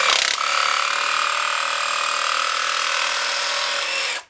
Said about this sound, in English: This is not the way to use a jigsaw.